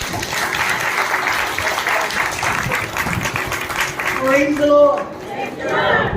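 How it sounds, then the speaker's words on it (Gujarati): An audience at a Gujarati Bible sermon claps in a sustained round of applause, a dense crowd patter with a speaker's voice over it and rising near the end. "થોડું તાળીઓથી વધારીએ બિચારાને"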